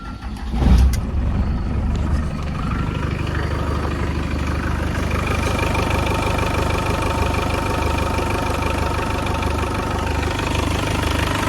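A Land Rover Discovery fitted with a budget air box, snorkel and new intake hose cranks and fires, then settles into a steady, close, loud diesel-like idle with a rhythmic knocking clatter and no talking.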